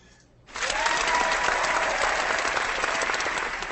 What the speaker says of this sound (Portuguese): agora é overdose de salva de palmas aí